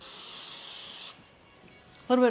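Pam cooking spray hisses from the can into a non-stick pan for about a second, a short breathy burst that cuts off, followed by a brief pause and then a voice starting to talk.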